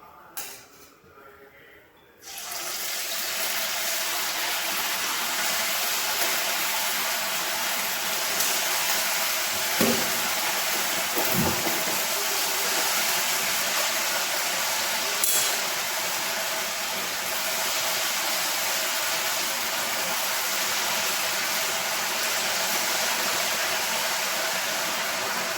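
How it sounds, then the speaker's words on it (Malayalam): Sabudana vadas hiss and sizzle in hot deep-frying oil: a sudden rush of steady, broadband crackle kicks in after a brief quiet start and holds near and even for the rest, with a couple of soft clunks midway. "സോ നമുക്ക് ഓരോന്നായിട്ട് വറക്കാം."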